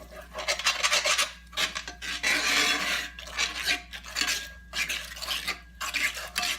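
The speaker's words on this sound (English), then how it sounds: "Get up all those good, those little burnt bits that are on the bottom of the pan" A utensil scrapes burnt bits off the bottom of a pan while chicken paprika gravy is made, giving repeated rough rasping strokes in uneven bursts, close and fairly loud, with no talking.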